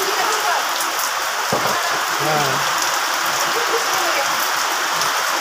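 Heavy rain pours down in a steady, dense hiss of drops drumming on surfaces. The downpour stays loud and constant throughout, with a brief voice speaking underneath.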